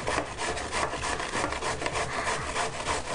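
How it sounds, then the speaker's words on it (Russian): Carrots are grated on a kitchen grater with a fast, steady run of rasping strokes, each a short scratchy burst, close and fairly loud throughout. "Следующий этап у нас это натираем на терке морковку."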